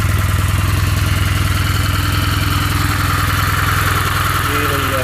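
A 2011 Kawasaki W800 motorcycle engine running close by, loud and steady, with a rapid, even pulsing beat and a mechanical whir from gear-driven cams on a shaft, a voice faintly under it near the end.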